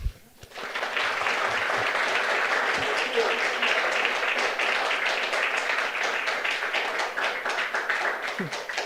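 An audience at a Library of Congress talk breaks into steady, sustained applause, a dense wash of clapping that begins abruptly and carries on evenly for several seconds.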